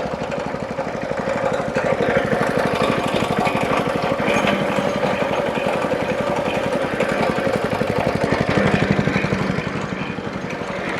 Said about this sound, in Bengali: এখন মেশিন দিয়ে আখের রস পেশাই করা হচ্ছে